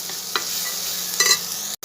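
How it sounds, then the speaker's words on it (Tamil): Garlic, onion, tomato and sambar powder sauté in a pan, a soft steady sizzle broken by a couple of quick stirring scrapes, ending in a sharp clack. "இதெல்லாம் ஒரு நிமிஷம் வதங்கட்டுங்க."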